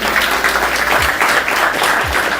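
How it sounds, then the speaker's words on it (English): An audience gives a steady round of applause at an evening debate event, dense continuous clapping from a crowd with no voices over it. "Front row, round of applause."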